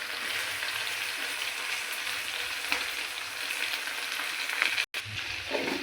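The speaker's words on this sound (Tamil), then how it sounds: "வெங்காயம், பூண்டு, வேர்க்கடலை, தேங்காய், பச்சை மிளகா, காஞ்ச மிளகா, முள்ளங்கி, உப்பு எல்லாம் போட்டு வதங்கிட்டு இருக்குது" Onion, garlic, peanuts, coconut, green and dried chillies and radish with salt sauté in a pan, giving a dense, steady sizzle with occasional stirring scrapes and a brief gap near the end.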